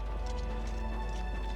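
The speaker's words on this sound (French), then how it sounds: "Donc, on va prendre le cheval." Horse hooves clip-clop in a steady rhythm as a mount is ridden in the video game The Elder Scrolls IV: Oblivion Remastered, heard continuously under a bed of game music and ambience.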